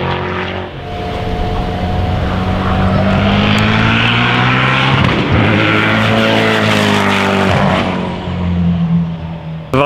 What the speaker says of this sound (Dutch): hij kwam weer vol gas voorbij